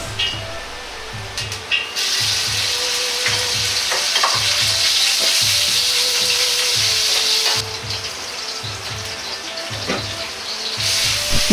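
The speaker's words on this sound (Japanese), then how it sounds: "鍋に大さじ1の油を入れ、ひき肉をしっかりと炒めていきます。" Minced meat stir-frying in a tablespoon of oil in a pot for salt mapo tofu: loud, continuous sizzling, with rhythmic scraping and pressing of a ladle breaking up the meat.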